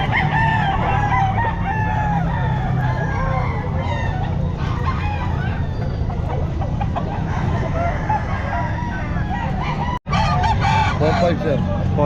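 Roosters and chickens crow and cluck loudly at a pet market in Calumpit, several birds calling over one another in a dense, continuous din, with a brief sharp break near the end.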